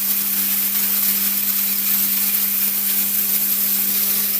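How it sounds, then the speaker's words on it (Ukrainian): A steady, loud mechanical drone with a strong low hum and hissing grind, running continuously without pause from a motorized mill grinding pig feed. "Я знов мелю свиням"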